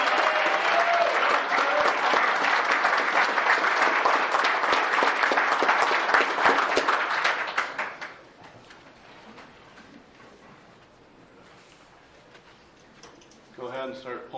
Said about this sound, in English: And a big round of applause for Ken Berry.